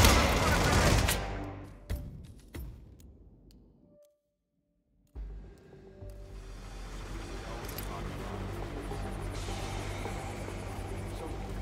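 Gunfire in the Hitman video game, a dense burst of loud shots and rattling fire at the start that fades into a brief silence, then resumes as a steady noisy din of game combat and effects.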